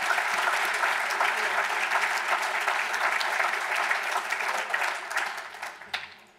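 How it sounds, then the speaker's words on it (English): Audience applause at a memorial gathering at the Newseum in Washington, D.C., a dense sustained round of clapping that thins and fades out toward the end. "Let's give him another round of applause."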